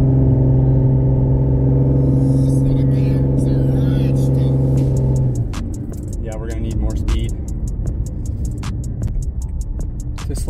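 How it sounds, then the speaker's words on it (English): A front-wheel-drive Toyota RAV4 with no handbrake on a dirt road: steady engine drone for about five seconds, then a drop as the brake and accelerator slide begins, with gravel ticking and crunching under the tyres. "let's try the first little brake and accelerator slide"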